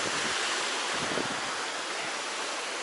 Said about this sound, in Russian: Море.